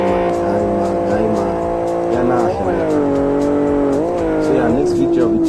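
Engine note of a car in the Live for Speed racing game with an overly strong air-intake sound, a loud continuous drone that rises and falls in pitch as it revs, with some tire squeal.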